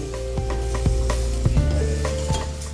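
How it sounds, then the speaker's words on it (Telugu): Pre-boiled country chicken tipped into a hot pan for a coconut curry sizzles loudly and steadily while a utensil scrapes and stirs through it, with a few knocks against the pan and no speech. "ఆల్రెడీ ఉడికించుకున్న నాటుకోడి ఇప్పుడు వేస్తున్నాం."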